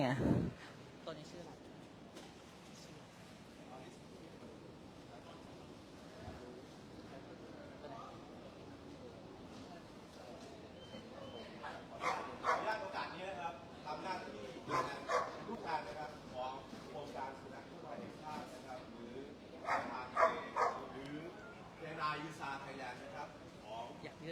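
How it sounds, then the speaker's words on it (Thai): A K9 rescue dog searching for survivors at a collapsed building in Chatuchak, Bangkok, barks in short repeated bursts on a hot day, with people talking throughout and a busy crowd around it. "กำลังเห่าอยู่แล้วนี่"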